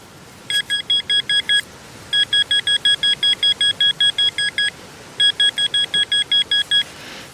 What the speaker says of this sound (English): It's a bit of a big signal for the decent signal I had on the detector.